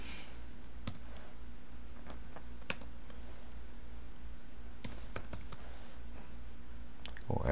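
A few sparse, light keystrokes on a computer keyboard as Greek letters are typed into a flashcard deck, soft isolated clicks spread over a quiet room-tone background.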